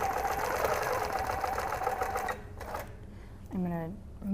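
Sewing machine stitching a quilt with a ruler template: a steady rapid mechanical hum runs for over two seconds, then halts, followed by a short burst of stitches and a voice speaking.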